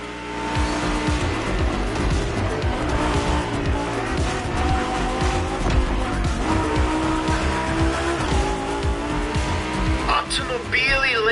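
Lamborghini and Ferrari race cars compete in The Crew Motorfest video game, with loud engines revving and shifting pitch throughout and tires squealing and skidding, ending in a sharp burst near the end.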